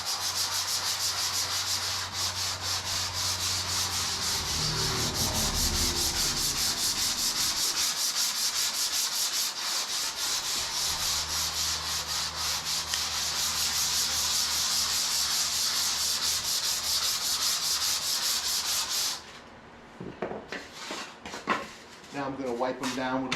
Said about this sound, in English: First I'm going to sand the areas just to scuff them up.